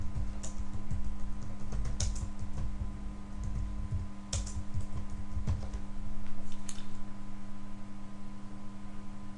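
Fingers type a job name on a computer keyboard in quoting software: a steady run of close, light key clicks over a constant low electrical hum, with no voices.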